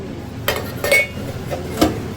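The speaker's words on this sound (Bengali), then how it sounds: "তাই এখন বাসন মাজছে" Pots and plates being washed, a few close clinks and knocks of metal and crockery spaced irregularly over a low background hum, no speech.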